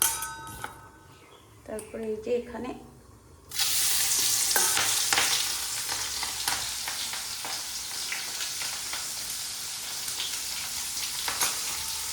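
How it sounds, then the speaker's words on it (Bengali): Prawns frying in hot oil with chopped onion and green chili, a steady loud sizzle that bursts in partway through after a quieter opening with brief clinks, with scattered utensil scrapes above it. "এখানে পেঁয়াজ কুচি কাঁচা লঙ্কা আর চিংড়ি নিয়েছি এটা ভাজবো"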